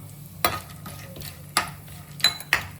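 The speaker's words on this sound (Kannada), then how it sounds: "ಇವಾಗ ಚಾಪ್ ಮಾಡಿರೋಂಥ ಗೋಡಂಬಿ ಗೋಡಂಬಿನ ಫ್ರೈ ಮಾಡ್ಕೋಬೇಕು" Chopped cashews fry in ghee in a pan, stirred with a utensil that scrapes and clinks four distinct times over a soft, low sizzle, close and clear with no talk.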